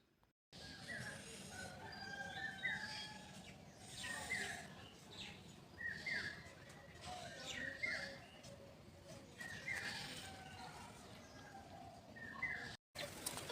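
Birds call and chirp across a village morning, with repeated bright calls and a rooster-like crow over a steady outdoor background, fairly close and continuous.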